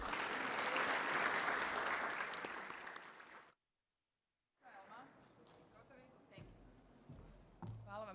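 Audience applause at a business forum in a Sarajevo hotel: a loud, dense round of clapping that stops abruptly into silence, then a quieter stretch with a voice speaking over light room noise and scattered claps.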